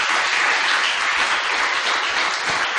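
A church congregation applauds during a Sunday morning service, a loud, dense and steady wash of clapping that fills the whole stretch without pause.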